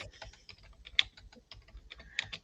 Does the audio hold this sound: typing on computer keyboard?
yes